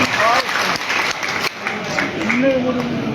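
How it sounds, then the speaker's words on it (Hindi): Audience applause welcoming poets at an all-India mushaira, dense clapping from the crowd with voices talking over it throughout. "जोरदार तालियों से उनका इस्तकबाल करके बताइए कि आप सुनने के मूड में हैं"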